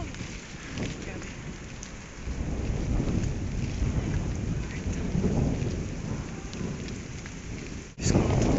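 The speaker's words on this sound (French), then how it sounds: "Putain, il y a une averse." Sudden thunderstorm with heavy rain on a hot day in Germany, a dense, constant downpour hissing on surfaces with low rumbling thunder, close and enveloping, a sharp knock near the end.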